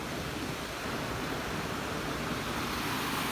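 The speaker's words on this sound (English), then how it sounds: "Waterfalls, small ones." Small waterfalls at an outdoor swimming hole in Montana give a steady, even rush of falling water, a continuous broadband wash with no breaks and no voices.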